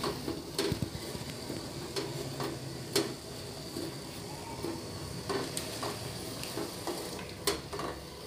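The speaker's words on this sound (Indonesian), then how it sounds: "Bisa diaduk-aduk ya, biar cepat larut si gula merahnya." Brown sugar being stirred into a pot of mung bean porridge, a steady run of soft scraping and occasional light utensil clinks against the pot, fairly quiet and close, with no talking.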